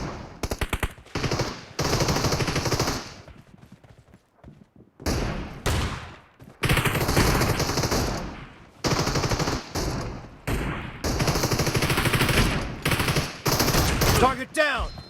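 Repeated bursts of shotgun fire ring out in a BGMI team deathmatch game, loud close blasts in clusters separated by short quiet gaps.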